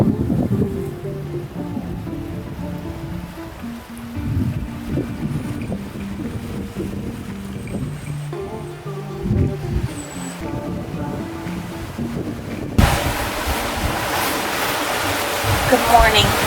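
A sailboat under sail on a calm Atlantic Ocean crossing, with steady wind and water rush and creaking rigging throughout, a few low speech-like sounds, and the hiss of wind on the microphone growing louder near the end.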